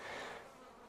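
A dense, steady buzz of many honey bees humming together in an open hive during a spring inspection, close and continuous without any voices.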